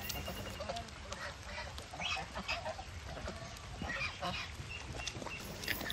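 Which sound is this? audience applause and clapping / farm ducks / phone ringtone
farm ducks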